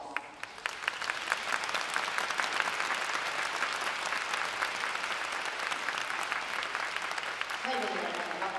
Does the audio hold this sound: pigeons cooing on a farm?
no